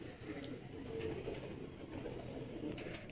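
Royal Teddy pigeons coo softly in a Lahore loft, a low murmuring mass of calls that carries on steadily at close range without clear breaks.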